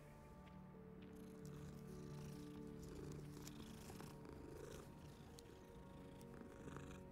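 A cat in the video game Hogwarts Legacy purrs in a soft, steady, rhythmic rumble that runs unbroken and close, with faint background game ambience.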